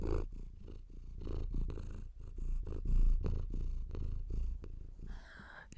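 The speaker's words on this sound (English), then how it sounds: "Listen to her purr." A cat purrs close up with a steady rumbling rhythm, each breath swelling and fading, ending with a brief rustle.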